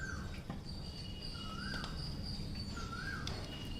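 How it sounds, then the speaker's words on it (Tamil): An Asian koel calls in the distance outdoors, repeating faint rising whistled notes about three times over soft insect chirping and low background hum. "குயில் சத்தம் கேட்குதா?"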